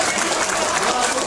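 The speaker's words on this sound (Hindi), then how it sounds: "आपकी तालियां कमजोर थी" Audience applause at an Urdu mushaira poetry recital in a hotel hall, a brief, fairly loud burst of clapping filling the room.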